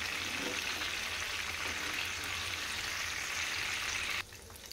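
Mutton keema balls fry slowly in oil over a low flame, a dense, even bubbling hiss that holds steady and then abruptly drops to a quieter level near the end.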